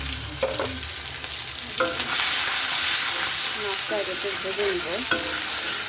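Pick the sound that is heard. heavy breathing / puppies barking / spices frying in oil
spices frying in oil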